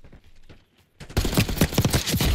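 Galil rifle in Call of Duty Black Ops 6 firing a rapid, loud burst of gunfire that starts abruptly after a quiet moment and continues as dense repeated shots.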